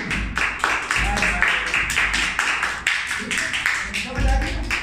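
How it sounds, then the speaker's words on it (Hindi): Students in a classroom clap loudly in bursts of rapid hand claps, with a teacher's voice and children's chatter mixed over the clapping throughout. "तालियां बजाओ जोर से बजाओ"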